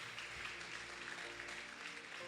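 Applause from a church congregation, a steady broadband patter of many hands clapping together throughout, moderately loud, with faint voices underneath.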